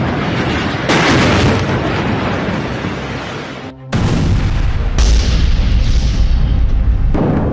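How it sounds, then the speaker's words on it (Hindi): Explosions in Gaza make a loud, continuous rumbling roar with heavy low booms, dipping briefly before a fresh blast swells back at full force. "धमाकों का शोर अब और तेज होने वाला है।"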